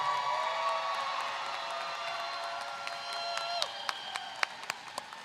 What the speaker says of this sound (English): Ladies and gentlemen, keep the claps going.